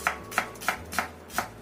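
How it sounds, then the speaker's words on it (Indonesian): Garlic cloves and shallots being finely sliced with a knife on a board, five crisp, evenly spaced chops close up with no talk. "aku pakaikan 2 siung bawang putih dan 2 butir bawang merah. Ini kita iris halus saja."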